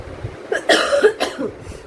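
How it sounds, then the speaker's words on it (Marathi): A woman coughs close up in a quick run of several dry bursts, one after another, with nothing else in between. "मला त्या दिवशीपासून थोडाफार खोकलं येत आहे"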